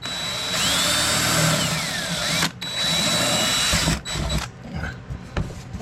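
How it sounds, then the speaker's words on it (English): A power drill bores a small hole, its whine running steady and loud for two bursts of a few seconds each with a brief pause between, then trailing off into scattered handling noise. "Go ahead and drill us a small hole."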